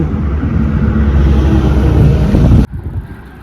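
Strong wind roaring across an uphill slope as bad weather sets in one evening, a loud, steady low rumble buffeting the microphone that cuts off abruptly near the end, leaving a quieter gusty hiss.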